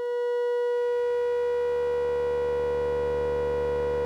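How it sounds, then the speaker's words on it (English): A Falistri modular synth generator produces a sustained electronic tone that swells in and then holds steady, taking on a pulsing amplitude-modulated buzz beneath a bright pitched whine. "we are creating a very almost amplitude modulated kind of sound"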